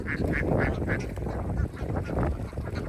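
Ducks quack repeatedly on a Bangladeshi duck farm, a dense flock calling close and loud in overlapping bursts over a steady outdoor background, with no talk.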